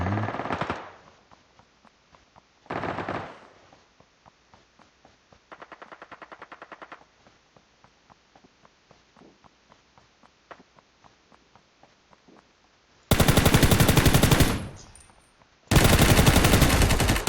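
Gunfire in Ring of Elysium: several short bursts of rapid automatic fire, some faint and distant with scattered single shots between, then two loud, close sustained bursts near the end.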